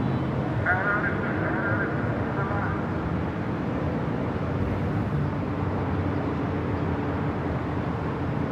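A United Airlines Dreamliner jet taking off at LAX gives a steady, broad engine roar at moderate distance, with a voice talking over it for much of the time.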